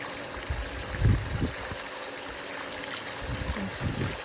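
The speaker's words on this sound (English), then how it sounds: "This weird looking water fountain is always a delight." Water trickling and splashing from an unusual town fountain along the Camino de Santiago in Spain, a soft continuous stream with faint low bumps, heard quietly from close by outdoors.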